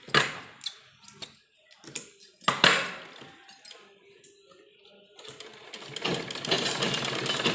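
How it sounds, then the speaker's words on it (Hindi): Scattered clicks and handling taps from a sewing machine give way to a steady close whir as it stitches along the neckline of a kurta. "और ये दो सिलाइयाँ हमें इसके ऊपर लगानी होती है ताकि जो ये हमने पेच लगाए हैं अच्छी तरह से मजबूत हो जाए।"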